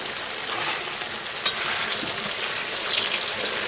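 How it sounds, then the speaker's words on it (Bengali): Chicken and potatoes fry over a strong open fire at night, a loud, continuous close sizzle with crackling and stirring noises and one brief sharp knock. "নিচে খুব সুন্দর আগুন জ্বলছে আর চিকেন এখন কষা হচ্ছে"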